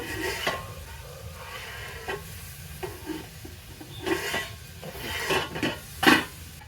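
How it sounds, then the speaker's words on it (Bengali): Spice paste for a hilsa fish curry hissing and sizzling in a pan as water goes in, with stirring clinks and scrapes of a utensil against the pot at a steady, close, moderate level. "হয়ে গেছে কষানো সব মশলাটা এবার আমি জল দিয়ে দেবো আর একটু জল দেবো"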